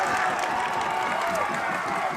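Hyped-up undergrad crowd cheering at a St. Bonaventure rugby match against Wheeling, a steady roar of voices and some clapping, fairly loud and continuous across the short stretch.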